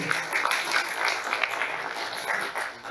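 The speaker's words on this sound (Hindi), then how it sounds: "आप एक जोरदार ताली हो जाएगी।" Loud, sustained applause from a crowd welcoming guests at a youth parliament event in a hall, dense clapping spread evenly with no voices standing out.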